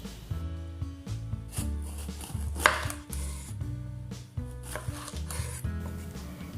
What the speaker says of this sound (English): Cut it into juliennes or whatever shape you like